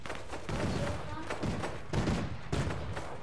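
Rapid bursts of gunfire in a Fortnite match, loud and close with dense cracking volleys that come in waves, briefly easing between bursts.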